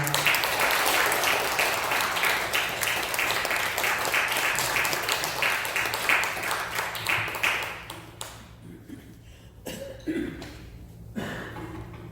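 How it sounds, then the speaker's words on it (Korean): Congregation applause at a Presbyterian church service in Korea, a dense crowd of clapping for about eight seconds that then thins to scattered claps and a few soft voices. "한 번 더 크게 박수합니다"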